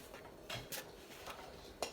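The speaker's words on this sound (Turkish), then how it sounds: "Şimdi kapağını kapatıyorum tenceremin." A metal lid is set onto a cooking pot of kuymak, a Turkish cheese dish, making a few soft clinks and clatters with quiet rustling in between.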